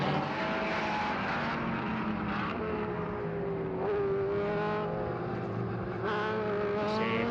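Single-seater formula racing cars from the 1970s and 80s lapping the Estoril circuit in Portugal, engines droning steadily and loudly with rising and falling pitch as they pass, alone with no talk.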